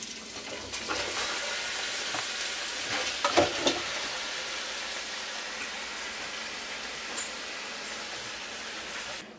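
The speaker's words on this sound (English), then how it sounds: "I cook the onions until they are wilted" Onions sizzle and fry in melted butter and oil for French onion soup, giving a steady broadband crackle with a few brief louder clinks of stirring near the middle and no talking.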